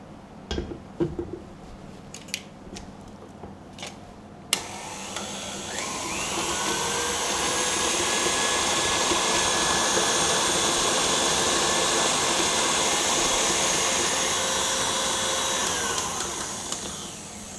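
An electric mixer beating chocolate buttercream on high speed starts after a few light knocks, then holds a loud, steady whirring drone with a gently shifting pitch until near the end.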